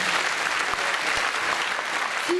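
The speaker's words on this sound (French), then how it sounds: "Vous pouvez applaudir très fort." A crowd at a 2014 radio singing contest and prize-giving in Bain-de-Bretagne, France, claps steadily and enthusiastically, a dense wash of applause that holds throughout.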